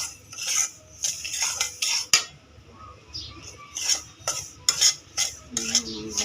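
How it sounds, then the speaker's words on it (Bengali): Metal spoon stirring and scraping a semolina mixture in a pan, with repeated clinking strokes at an uneven rhythm, close and fairly loud over a faint background. "একটু নাড়িয়ে নেব, ভালো করে সুজির সাথে মিশিয়ে"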